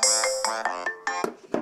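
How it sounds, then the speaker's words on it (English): An iPhone alarm on iOS 8 plays a bright, tinkling melody of quick repeated tones, close and clear, alone without talk. "You can hear the alarm right now."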